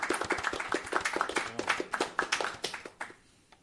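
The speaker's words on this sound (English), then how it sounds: "If you think Allison won this round of You Look Like," A small comedy-show audience claps at a late-night talk show, a burst of dense, close handclaps that thins out and fades toward the end.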